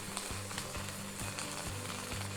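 Beef fat from dry-aged Thai Wagyu sizzles loudly in a hot frying pan, a steady crackling hiss with a few soft knocks, no voices.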